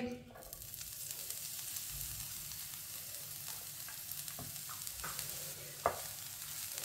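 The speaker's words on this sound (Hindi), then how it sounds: "ऑयल को मैंने आधा मिनट के लिए गर्म कर लिया है। बारीक कटा हुआ सब्ज प्याज डालेंगे।" Finely chopped green onion goes into oil heated for half a minute, giving a faint steady sizzle with a few soft stirring clicks and scrapes, one slightly sharper knock near the end.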